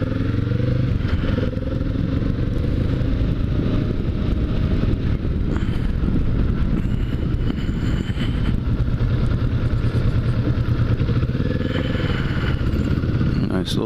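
A motorcycle ride on a hot morning, Kawasaki Vulcan 650S or Harley Iron 883, with a steady loud engine drone and heavy wind buffeting on the microphone, continuous throughout.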